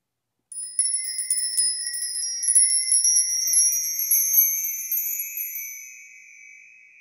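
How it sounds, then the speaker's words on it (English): An OM Percussion microtonal wind chime with solid hammered aluminum bars rings in bright, high overlapping tones, struck in a quick cluster and left to shimmer and slowly decay, heard alone. "This is the microtonal wind chime."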